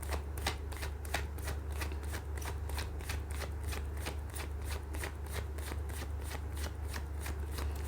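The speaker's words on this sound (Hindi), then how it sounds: "कर लेती हूँ कार्ड की शफलिंग" Tarot cards being shuffled up close in a steady, rapid riffling rhythm of repeated crisp flicks, continuing evenly throughout over a low background hum.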